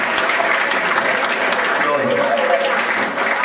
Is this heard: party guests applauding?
yes